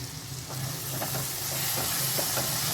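Mushroom masala with ground spices sizzles in a hot pan while being stirred, a steady close hiss with soft scraping strokes repeating throughout, no voices.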